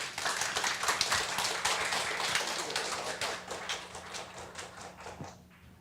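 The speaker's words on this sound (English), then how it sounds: "Let's give a big round of applause again to Minister Peng." Audience applause at an environmental education workshop keynote, a dense steady clatter of many hands clapping that carries on for several seconds and then gradually thins and fades toward the end.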